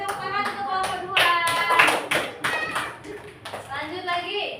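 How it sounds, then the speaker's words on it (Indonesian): Classroom children clap for a presenting group, uneven bursts of close claps mixed with children's voices talking and calling out over the clapping. "Oke, beri tepuk tangan untuk kelompok 2."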